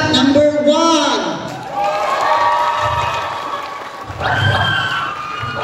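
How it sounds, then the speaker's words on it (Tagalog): An audience at Maranding Educator's Night 2024 in Digos cheers and shouts for contestant number one, loud whoops and crowd noise rising in bursts, with voices calling out amid the noise. "Sige, palakpak number 1."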